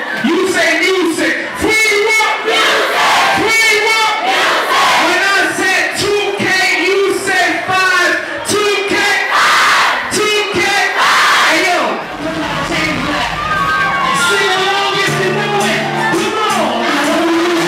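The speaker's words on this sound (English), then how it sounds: "When I say freedom, you say music." Concert crowd at a sold-out lounge show shouting a loud call-and-response chant, massed voices bellowing in repeated bursts close and dense, then easing into a quieter stretch near the end.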